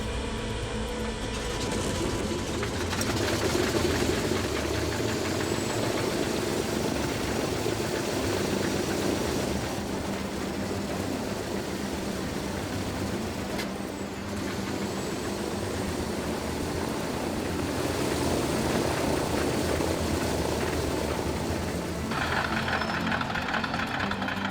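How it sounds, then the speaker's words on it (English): A vintage aircraft engine on the plane Miss Pickup turns over on its starter and keeps running, a rough, steady mechanical drone with uneven knocking, heard alone without talk. "The tension was palpable as the engine rotated on its starter."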